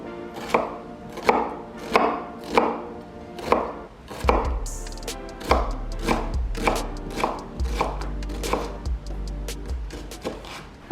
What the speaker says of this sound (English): Brendan's taking over for the onion cutting because I'm not good at it.